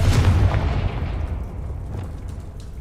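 The Confringo spell cast in Hogwarts Legacy, a loud booming blast that hits at once and rumbles off into a fading, crackling tail, with no talking.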